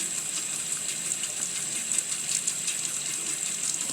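Tap water runs steadily into a sink while a face is rinsed, with a constant hissing splash at close range and no breaks, and no talking.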